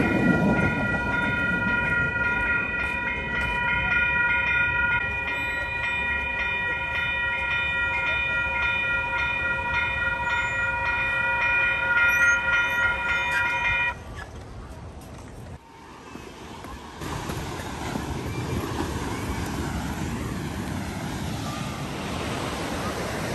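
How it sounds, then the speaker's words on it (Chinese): A train rolls past along the beach at San Clemente, a steady rumble with horn-like tonal lines for about fourteen seconds, then fading into the wash of ocean surf; a voice briefly speaks over it. "你看后面火车经过，这里是洛杉矶的小镰仓"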